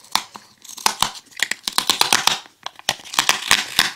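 A makeup powder package is torn and crinkled open up close, with sharp irregular rips and plastic crackles in quick bursts and no talking.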